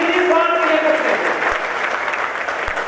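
A crowd at a public speech breaks into loud, sustained clapping that gradually eases, with a voice briefly heard at the start.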